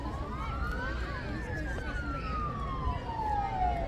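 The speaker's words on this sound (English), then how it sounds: "I can hear sirens. You guys hear sirens?" A distant police siren wails at a police department open house with a K9 demonstration, rising then slowly falling in pitch, faint beneath a wash of background noise.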